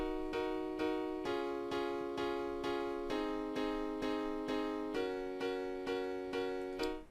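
Software piano from a chord-generating plugin repeats a straight chord in an even four-beat pattern, each struck chord decaying before the next, shifting voicing every few bars, clean and alone.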